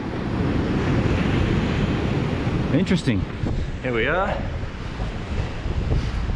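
Ocean waves rolling onto a beach, a constant roaring surf mixed with heavy wind buffeting the microphone, with someone speaking briefly over it.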